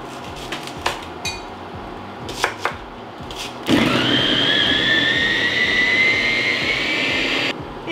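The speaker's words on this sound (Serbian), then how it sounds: "usitnila sam luk u secku" An electric food chopper cuts four large onions, with a few light clinks and taps before its motor starts and then a steady, close whirring for about four seconds before it stops abruptly.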